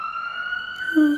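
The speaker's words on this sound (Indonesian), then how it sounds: "Oh, ini suara ambulans." A sustained electronic ambulance siren tone holds steady, then shifts pitch near the end, loud and close with no talking.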